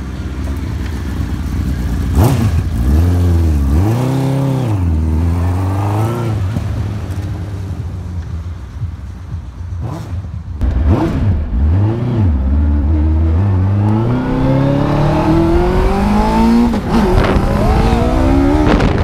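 A Westfield sports car fitted with a 1.3 litre Hayabusa motorcycle engine revs hard nearby, loud rising and falling bursts that repeat over and over, ending in a long sustained climb.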